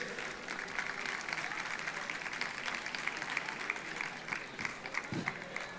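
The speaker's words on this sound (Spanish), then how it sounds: "un aplauso para ellos, pueden aplaudirles" Crowd at a city festival opening ceremony applauding jury members seated in the front row, continuous scattered hand clapping at moderate volume, with a faint voice underneath.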